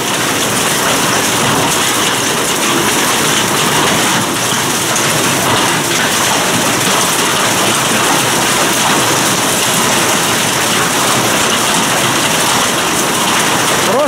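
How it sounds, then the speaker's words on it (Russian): A heavy hailstorm pours down steadily and loudly for the whole stretch, producing a dense, unbroken roar of ice striking surfaces, with no voices. "Какой град у нас валит."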